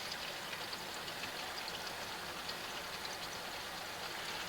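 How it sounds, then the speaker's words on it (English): Water draining in an RV shower, a faint, steady trickling wash that continues without a break and with no talk. "Here, water draining."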